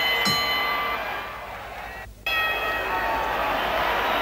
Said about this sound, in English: the bell rings, and out they come again